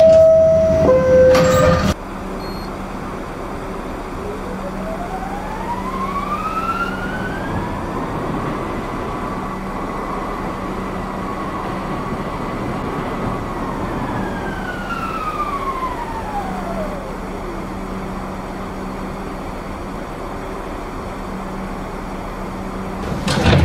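Subway train in the Roblox video game, running steadily with a rising and falling whine as it moves, heard alone after a short chime at the start and continuing for a long stretch.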